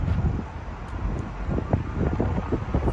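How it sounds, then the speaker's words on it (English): Steady wind buffets the microphone outdoors in Detroit, a constant low roar with gusty rumbles and no voices. "it's so windy today"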